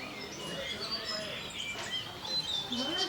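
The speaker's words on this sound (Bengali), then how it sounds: "পাখির কুজন শোনা যায়, মন একদম ভরে যাবে শান্তিতে।" Several birds chirp and call around a hillside homestay in Upper Sittong, thin high calls scattered over soft ambient background, fairly faint and unhurried, with no talking.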